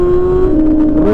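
Revving engine of a motorcycle fitted with a C36 muffler, a steady loud drone with a slight pitch drop midway, continuous and close, with no talking.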